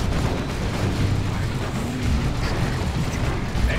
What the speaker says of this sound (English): Friendly plasma cannon shot, killing 2 TAC models.